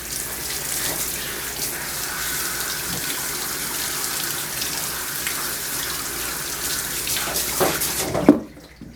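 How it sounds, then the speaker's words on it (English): Running water pours steadily from a close sprayer as soap is rinsed off a poodle mix during grooming, a continuous hiss that cuts off abruptly at the end. "Rinsing takes longer than the lathering, so make sure you get all the soap off the body"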